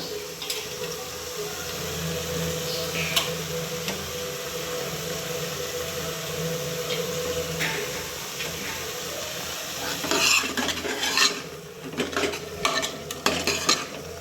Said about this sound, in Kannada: ಒಂದು 2 ನಿಮಿಷ ಅದು ಚೆನ್ನಾಗಿ ಫ್ರೈ ಆಗಬೇಕು ಕಾಳುಗಳು